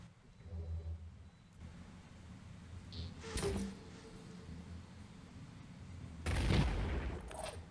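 Grenade blasts in the video game Phoenix Point: two loud explosive bursts, one mid-clip and a bigger one near the end, over a low rumbling game soundscape.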